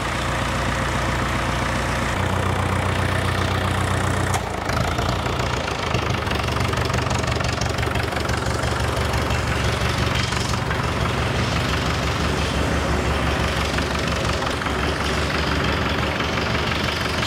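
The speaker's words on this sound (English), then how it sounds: "Let it run for a couple of minutes, get some heat in the engine" A loud diesel engine running on gas idles with a steady knocking rumble that stays close and continuous throughout, with slight shifts in tone partway through.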